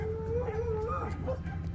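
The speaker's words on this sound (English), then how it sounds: "with all those dogs barking" Several dogs on a rural property bark and howl, a drawn-out howl with yips sounding fairly close over a low background hum, with faint talk beneath.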